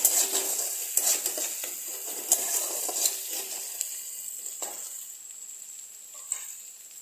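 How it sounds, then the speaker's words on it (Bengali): Sliced onions fry with a pinch of salt in a pan for a rohu-and-onion curry, giving a steady close sizzle broken by scraping stirs and light utensil knocks, with no talking. "আমার এই পেঁয়াজ ভাজাটা হয়ে গেছে।"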